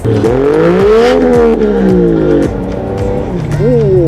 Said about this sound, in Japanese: 車外のマフラー入ってるので、はい、まあまあ恒例マフラーサウンドチェックいきましょう